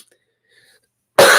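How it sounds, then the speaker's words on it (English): A single sharp cough bursts in loud and close near the end after near silence, cutting off abruptly. "Sorry for coughing."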